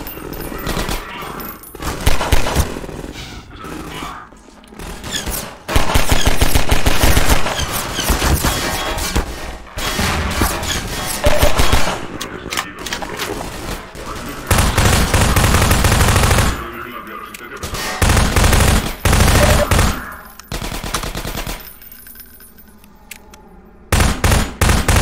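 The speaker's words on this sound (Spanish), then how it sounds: "Pues yo disparo ya por si acaso" Loud, rapid bursts of gunfire in Half-Life 2: Episode One, fast machine-gun volleys broken by short pauses, with impacts and crashes mixed in.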